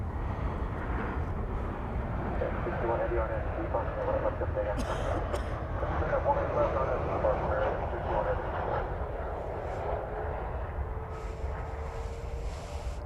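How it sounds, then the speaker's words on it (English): An airliner departing Dallas Fort Worth airport on a flight to Tokyo makes a broad, steady jet engine roar at a moderate distance throughout, with faint wind on the microphone and a brief click midway. "So here goes the flight to Tokyo."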